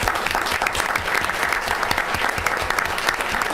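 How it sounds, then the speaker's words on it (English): Applause fills a city council meeting chamber, a dense, even wash of clapping from the audience that stays loud and steady throughout. "I'd like to give them a round of applause for all the hard work that they've done."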